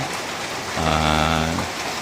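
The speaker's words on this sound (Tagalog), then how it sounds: "Talaga pong wala pong tigil ang ulan." Heavy rain falls steadily on a garden, a continuous hiss throughout, with a brief droning tone rising over it in the middle.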